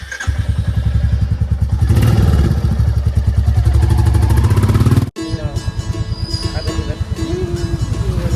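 A Royal Enfield Bullet motorcycle engine thumps loudly and close in a fast, even rhythm, cutting out briefly partway through before its throbbing beat picks up again.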